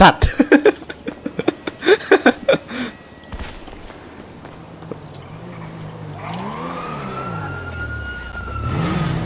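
A police car siren in GTA V rises and sweeps in after bursts of speech, wailing louder and closer toward the end over engine noise.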